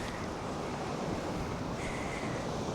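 Steady wind and breaking sea waves along a seaside promenade on an island, a continuous broad rushing roar with gusting microphone wind noise, no voices.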